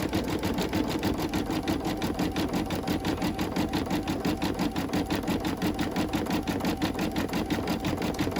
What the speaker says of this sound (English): I'm going to do a little satin stitch here along the rooftop.